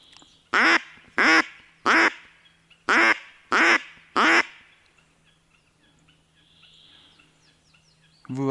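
Six loud, evenly spaced harsh calls from wild ducks near a forest river, each a short burst with strong harmonics, followed by quieter rustling and a faint hum as the birds take off and fly about 100 metres away.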